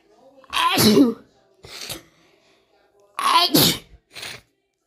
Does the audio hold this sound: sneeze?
yes